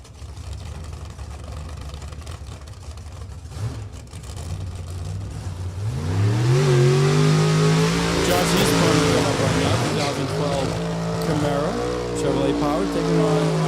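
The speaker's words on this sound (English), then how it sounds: "That's a bracket car ready for competition." A bracket drag racing car at a drag strip idles with a rough low rumble, then its engine swells into loud, rising revs that hold and waver near and strong, with an announcer talking over it.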